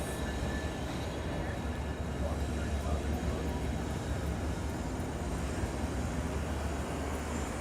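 A large BNSF freight train rumbles steadily past at close range, a continuous dense roar of wheels and cars on the rails with a heavy low drone throughout and faint squeal overtones.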